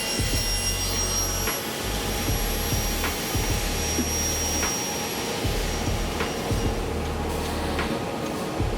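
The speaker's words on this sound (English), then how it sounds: "over at the automated saw, the beefy extruded aluminum super track is cut to length" Automated saw cutting heavy extruded aluminum track to length, a loud, steady industrial whine with rumbling low drone and periodic faint clicks, running continuously without speech.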